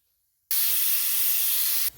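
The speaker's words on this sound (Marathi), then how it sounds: "या कुकरच्या आपल्या 2 शिट्ट्या काढून झालेल्या आहेत।" Pressure cooker on a medium gas flame while cooking rice, letting out a single sharp, steady hiss of steam that starts abruptly, holds for about a second and a half, then cuts off.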